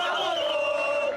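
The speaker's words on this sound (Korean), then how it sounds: "나를 보더니 갑자기 김민재를 환호한다." A street crowd in Naples during a football title celebration chants and cheers a player's name in unison, a loud, sustained sweep of massed voices nearby.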